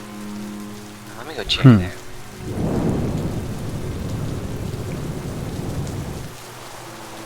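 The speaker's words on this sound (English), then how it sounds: "Did you hear that? What, a storm?" A Minecraft thunderstorm: a sharp, loud thunder crack rolls into steady, heavy rainfall that continues to the end, with a brief spoken line heard over the opening and the storm.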